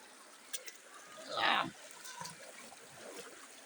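A person wades into a stream, making one brief swishing splash of water, fairly quiet and close, with soft trickling around it and people talking nearby.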